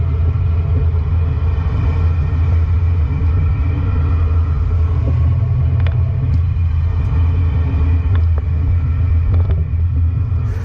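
A 2013 Ford F-53 motorhome fitted with a Roadmaster rear anti-sway bar drives a test course, its deep engine and road rumble loud and constant from start to finish, with faint rattles and knocks on top.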